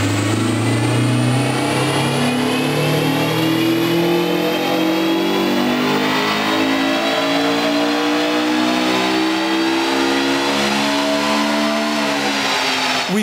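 A car engine revs steadily upward on a dynamometer run with an aftermarket eBay performance chip fitted, a loud, continuous climbing drone through the gears with no talking.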